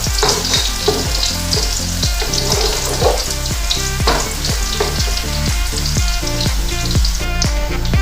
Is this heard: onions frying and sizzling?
yes